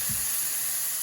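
Ground pork frying with onions in a pan gives a steady, close sizzle and hiss that runs evenly throughout, with a soft low clunk near the start and no talking.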